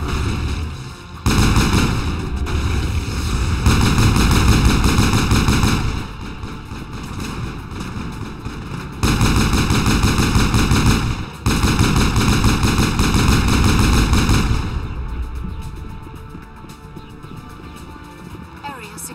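A gun firing in Mass Effect, sustained loud rapid gunfire and blasts that come in long, dense stretches with brief breaks between them, heavy and close throughout.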